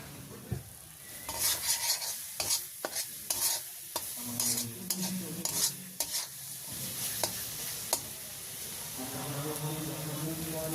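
Potatoes stir-fried in mustard oil with spices, salt and turmeric: repeated brisk spatula scrapes over a constant sizzle, easing into quieter frying as a voice speaks near the end.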